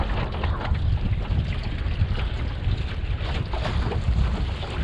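A sailboat tacks in wind, a dense steady rush of wind noise buffeting the microphone with water wash beneath, loud and continuous and with no clear talk.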